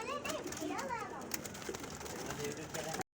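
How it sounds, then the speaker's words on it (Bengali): Red patti pigeons coo softly in a steady low murmur, with someone talking over them and children's voices faintly in the background. "লাল পাত্তি কবুতর"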